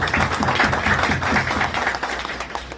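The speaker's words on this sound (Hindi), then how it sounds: "तालियां बजाने में मेरे ख्याल में एतराज़ नहीं होना चाहिए" A crowd applauds steadily at an award ceremony in Multan, dense clapping that holds at a strong level before thinning slightly toward the end.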